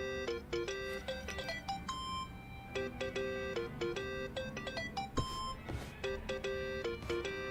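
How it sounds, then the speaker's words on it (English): A phone ringtone in the video game Yakuza: Like A Dragon plays a bright, repeating electronic melody of quick beeping notes, steady and continuous over faint game background sound. "Think that's your phone"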